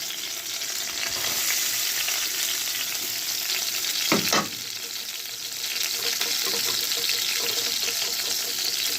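An onion fries in melted butter in a pan with a steady close sizzle and soft stirring scrapes, a brief louder clatter midway, then the frying carries on evenly.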